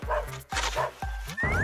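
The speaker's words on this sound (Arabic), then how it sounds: "إزاي الكلب ده جه هنا؟ اجري لبيتك يا كلب." A dog barks close and loud, four quick barks in a steady rhythm, ending in a rising whine-like tone.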